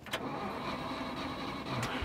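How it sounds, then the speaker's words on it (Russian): Car engine cranking and catching in the survival game SCUM, a steady mid-pitched motor with brief clicks at the start and end, heard alone without talk. "Открой двери, я заеду на машине."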